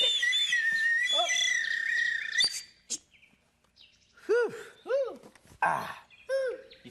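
Children imitate birds with their voices, producing a run of high whistles and chirps, first a sustained warbling trill, then several separate rising-and-falling whistled calls, close and fairly loud.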